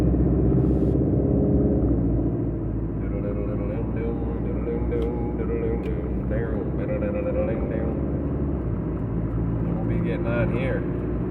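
A Subaru cruising on the I-94 near Wilmot, its steady engine rumble and road noise continuous throughout as it slowly shifts up through the gears, with talk over the top.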